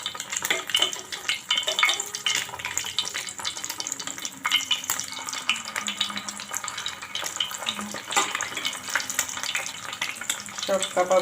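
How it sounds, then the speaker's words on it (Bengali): Egg-coated kebabs frying in hot oil, a busy crackling sizzle with utensil clinks and scraping throughout, fairly close, with a faint voice now and then underneath. "তেল গরম হয়ে গেছে, এখন কাবাবগুলো ফ্রাই করে নেব"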